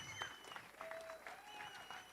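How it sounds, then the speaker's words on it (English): Applause at the Western States 100 race meeting, a faint steady patter of many hands clapping across the room, with a few sharper claps standing out. "Let's give them all a big, big round of applause."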